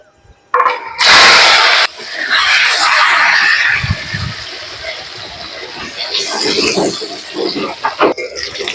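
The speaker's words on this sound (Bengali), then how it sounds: "মাছ ভাজার তেলে বেগুনগুলো ভেজে নেব" Eggplant slices drop into hot oil left over from frying fish, giving a sudden loud sizzle that settles into a steady crackling fry, with brief voices and some clatter partway through.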